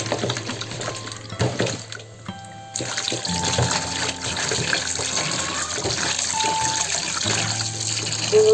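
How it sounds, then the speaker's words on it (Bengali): Tilapia fish washed under a running kitchen tap, a steady stream of water splashing and trickling close by, shifting in tone as the fish are handled, with clatters of a bowl or sink and no speech. "মাছগুলো ধুয়ে নিয়ে আসছি"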